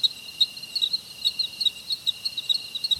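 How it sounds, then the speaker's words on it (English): A steady, rhythmic chirping of crickets alone in otherwise quiet surroundings, played as a comedic silence effect, evenly pulsing throughout. "Silence, really? I get crickets on that?"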